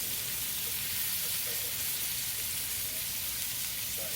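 Butter sizzles steadily in a pan with onions and beef neck bone, a constant, even hiss of frying with no break.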